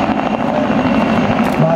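A W-3 Sokol helicopter flies past loudly at the 2018 Plzeň air show, its rotor and engine roar steady and close, with a voice faintly audible over it.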